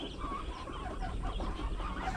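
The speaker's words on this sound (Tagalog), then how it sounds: "So okay naman yung ating mga upgraded chicken dito." Chickens cluck softly and continuously among a flock of upgraded birds on a farm, faint murmuring calls overlapping without pause.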